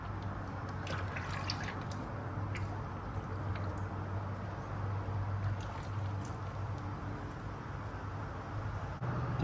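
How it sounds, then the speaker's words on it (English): Used engine oil from a Ford F-150 oil change pours steadily into a black plastic receptacle, a continuous close liquid glugging and trickling with no talk. "go ahead and pour it into this black receptacle for you guys"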